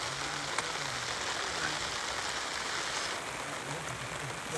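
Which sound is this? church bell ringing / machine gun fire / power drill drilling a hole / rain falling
rain falling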